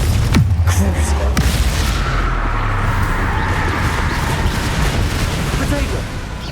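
Confringo fire spell exploding in Hogwarts Legacy, a loud booming blast followed by a sustained rumbling roar of combat noise, with a shouted voice at the start.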